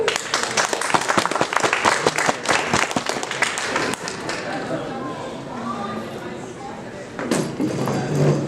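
Open-mic crowd applauding for the next performer, a dense burst of clapping and cheering that thins out midway, then swells again near the end with voices mixed in.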